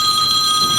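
A telephone rings loudly and steadily in a room, a continuous bright electronic tone for just under a second with no voices over it.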